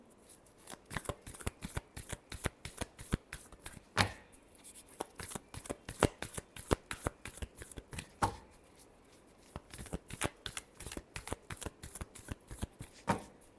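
A deck of tarot cards is shuffled by hand in a quiet room, making rapid, crisp riffling clicks and flutters in repeated bursts.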